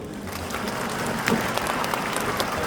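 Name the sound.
audience applause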